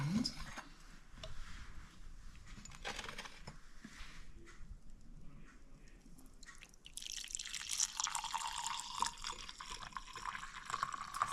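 Masala chai bubbling and frothing in a pot, a soft wet crackle of small bursting bubbles that grows busier and hissier toward the end, quiet and close with no talking.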